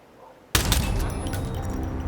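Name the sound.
gunshots from the video game Hitman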